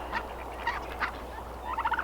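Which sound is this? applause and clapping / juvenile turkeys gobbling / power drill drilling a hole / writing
juvenile turkeys gobbling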